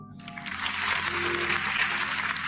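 A crowd at a Black History Month celebration breaks into applause, a dense, even roar of clapping that swells in after a quiet start and holds steady at moderate distance.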